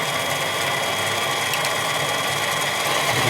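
Steady mechanical whir and faint gear chatter from a lathe taking a cut at slow RPM, continuous throughout, with one light tick partway.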